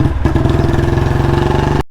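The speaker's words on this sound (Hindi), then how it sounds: "मिसिंग स्टार्ट हो गई है" A Royal Enfield Bullet Standard 350 single-cylinder engine misfires while running, its steady loud thumping idle broken by irregular uneven beats for nearly two seconds before cutting off abruptly.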